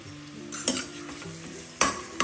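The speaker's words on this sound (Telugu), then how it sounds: "ఈ అల్లం వెల్లుల్లి పేస్ట్ పచ్చివాసన పోయే వరకు ఫ్రై చేసుకున్నాం" Ginger garlic paste and green chillies fry with softened onions in a pan, a steady sizzle broken by a few sharp spatula scrapes against the metal, close and moderately loud with no voices.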